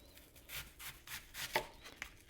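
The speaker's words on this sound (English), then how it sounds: "We're going to put it in my handy dandy chopper here." Handheld food chopper cutting an onion, a quiet series of about five rhythmic chopping thumps close by, with no talk.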